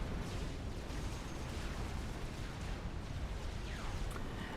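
Battleship artillery in Supreme Commander Forged Alliance pounds away as a dense, continuous rumble of overlapping explosions and booms, loud and unbroken throughout with no clear pauses.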